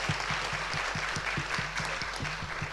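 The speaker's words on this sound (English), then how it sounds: "please join me in a round of applause to thank our exceptional panelists" A crowd claps steadily, applause filling the room at a moderate, even loudness with no voices on top.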